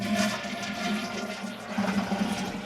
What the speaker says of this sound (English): Oh man, a toilet.